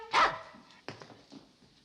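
A dog in a sitcom scene lets out one sharp, loud bark, and a few softer yips and whimpers follow. No one speaks.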